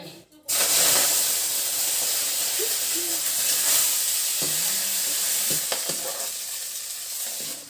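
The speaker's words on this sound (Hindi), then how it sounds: "तेल गरम हो गया और अब मेथी प्याज के दे देता हूँ फोरन" Fenugreek seeds and onion hit hot oil for a tempering, setting off an abrupt, loud, steady sizzle and hiss that holds throughout, with a few light clinks of stirring and no talking.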